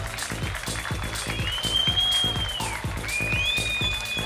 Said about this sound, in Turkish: Büyük alkışlarınızla.